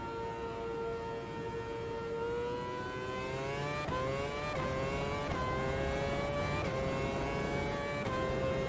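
A race car engine in the Automobilista 2 racing game on the Hockenheimring circuit holds a steady, loud whine that climbs in pitch, dips sharply at each gear change and climbs again, continuous throughout with no talk.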